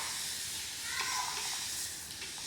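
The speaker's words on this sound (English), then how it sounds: "spraying the entire side of this" A spray bottle mists water over the side of a curly wig in a soft, steady hiss that swells briefly and stays fairly faint.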